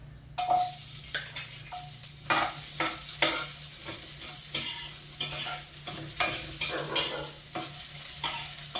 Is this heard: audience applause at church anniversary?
no